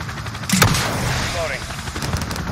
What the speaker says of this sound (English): Mike, here comes gun run.